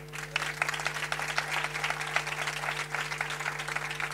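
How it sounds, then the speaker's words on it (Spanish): Audience applause for Spanish sports broadcaster José Ramón de la Morena at a Cádiz football club gathering, a steady dense round of clapping sustained throughout with a low mains hum underneath. "yo creo que merece un aplauso, ¿no?"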